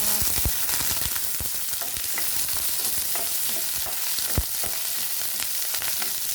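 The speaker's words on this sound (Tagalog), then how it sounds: "Mainit na yung oil. Gisa ko na guys. Ahos, sibuyas" Garlic and onion sautéing in hot oil, a loud, dense sizzle crackling continuously up close with sharp pops and spatula stirs scattered throughout.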